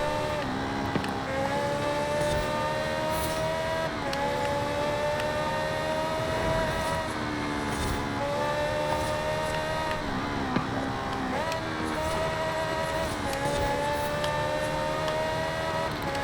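A 1969 Ferrari Dino 246 GT race-tuned with drag tires in Forza Horizon 5, engine repeatedly climbing to redline and shifting up, a steady cycle of rising revs and gear-change dips, loud and close throughout.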